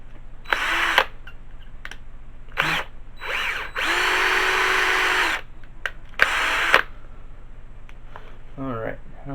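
A power drill bores holes in a metal laptop back plate during a 2008 laptop-to-desktop conversion, running in several whirring bursts of one to two seconds, one longer, close by, with quiet pauses between.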